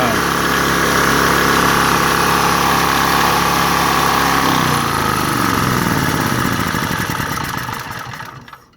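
A Phoenix CDY2500L propane generator engine runs steadily and loud with a kinked propane hose to the venturi, its drone holding for several seconds before the low tone shifts and the sound fades out at the end.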